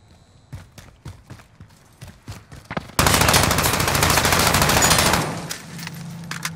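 Gunfire in Warzone on Xbox One: scattered single shots first, then a sudden loud, sustained burst of rapid automatic fire lasting about two seconds before it fades to a quieter background.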